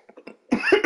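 Someone gives a short, close cough, preceded by a few faint breathy catches, a quick burst of two or three harsh pulses.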